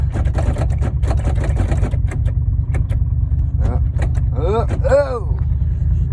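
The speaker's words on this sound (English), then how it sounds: "Rear window, you can hear it trying." On a vintage woody wagon pulled from long shed storage, the power rear window motor strains and whirs over a steady low rumble, with clunks and a rising whine near the end, loud and close.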